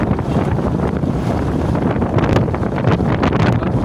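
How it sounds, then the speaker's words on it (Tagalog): Strong wind buffeting the microphone, a steady loud rumble with gusty bursts throughout, like riding in the open on a blustery day. "Grabe ang hangin ngayon."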